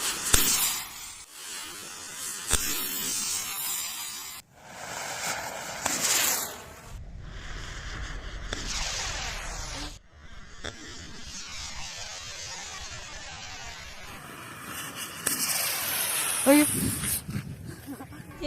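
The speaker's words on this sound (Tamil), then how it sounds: "இந்த ராக்கெட்டும் சங்கு சக்கரம் பாத்தீங்கன்னா ஃபர்ஸ்ட் சுத்திட்டு அதுக்கப்புறம் ராக்கெட் வந்துட்டு மேல பறக்க ஆரம்பிச்சது" Small firecracker rockets fitted with spinning ground chakra fireworks fizz, hiss and whoosh in a series of bursts, some loud and crackling, others sputtering as they spin and lift off, with a voice occasionally heard.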